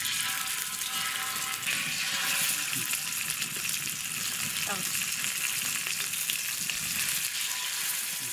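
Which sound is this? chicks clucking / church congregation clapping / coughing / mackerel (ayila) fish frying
mackerel (ayila) fish frying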